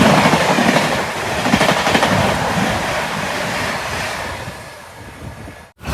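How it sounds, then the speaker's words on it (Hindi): Trains rush past a stopped Janta Express on the Patna to Mumbai line, a close, loud, continuous rumble and clatter that fades slightly before ending abruptly. "हमारी ट्रेन को रोक कर न जाने कितनी सारी ट्रेनों को हमसे आगे निकाला जा रहा है।"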